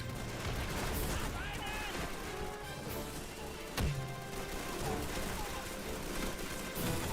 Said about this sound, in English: let's just try to range some shots on that Jeep